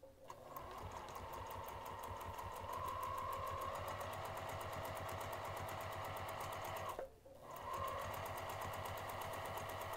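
Close and loud, a sewing machine stitches seams on a craft bag in a long steady rattling run, stops briefly for a backstitch, then carries on at the same pace, with no voices.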